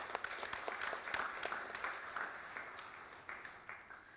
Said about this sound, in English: So I think we should all give you a round of applause.